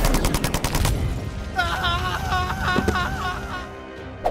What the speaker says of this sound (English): Guest 666 had a gun with him. He immediately started shooting at the hunters.